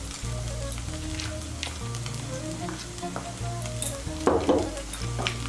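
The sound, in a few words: flattened rice pulao with vegetables, cashews, raisins sizzling while stirred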